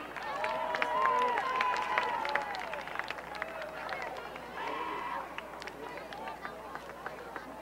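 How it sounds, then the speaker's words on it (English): Crowd applause at a sixth grade Super Bowl football event, steady scattered clapping with some cheering, moderately distant under a faint announcer's voice. "How about another round of applause for the Vikings"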